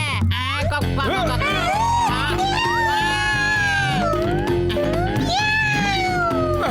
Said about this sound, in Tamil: இந்த கேவலமான வாய் வச்சிருக்கிற பூனை கிட்ட இருந்து என்ன காப்பாத்துங்க